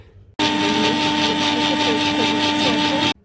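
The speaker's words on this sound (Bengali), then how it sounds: "এই মিক্সিতে বসিয়ে দিলাম।" A kitchen mixer grinder whirs loudly and steadily for about three seconds, grinding poppy seeds with green chillies, starting and stopping abruptly.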